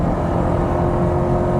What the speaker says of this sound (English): You can hear that electric motor, it's done its job, and now it's all V8